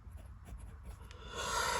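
A fine-nib fountain pen filled with Faber-Castell black ink scratches softly across paper in short strokes, close and quiet, ending in a brief hissy swipe.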